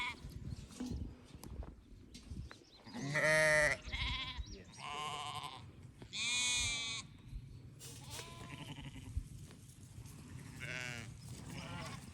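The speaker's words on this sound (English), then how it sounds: "Them sheep like that loose mineral mix." Sheep on a farm bleat several times at a loose mineral mix being put out, drawn-out calls at moderate distance over a low outdoor background with some rustling.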